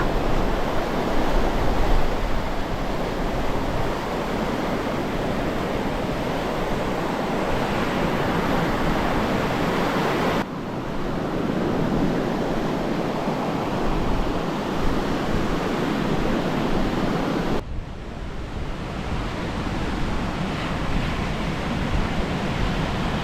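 Ocean surf rolling onto a beach at Santa Maria, Cuba, a loud continuous wash of breaking waves with wind buffeting the microphone and no voices.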